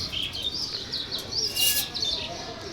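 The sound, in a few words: racing pigeons cooing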